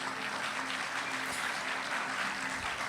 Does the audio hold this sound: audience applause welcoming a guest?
yes